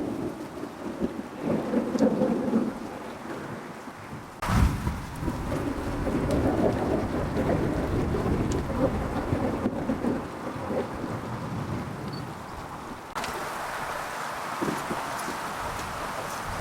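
Thunderstorm over the Southern Tablelands near Marulan, New South Wales, with steady heavy rain and repeated rolling thunder, including a sharp nearby crack partway through and long low rumbles under the downpour.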